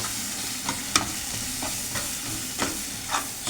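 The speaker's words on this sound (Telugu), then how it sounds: "ఇది బాంబాయి మసాలా బాగా కలుపుకోవాలండి." Bombay masala and coriander powder stirred in a pan for an egg, drumstick and mango curry, with a soft frying sizzle and several quick scraping strokes of a spoon.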